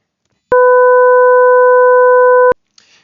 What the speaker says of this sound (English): The nonlinear wave sounds sharper and more aggressive.